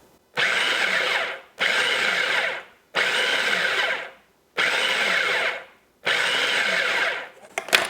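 A food processor pulses a coconut cream pie crust mixture in five loud, even bursts of about a second each, separated by short pauses, with no talking.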